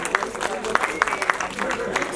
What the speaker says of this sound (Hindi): एक बार जोरदार तालियां दीपक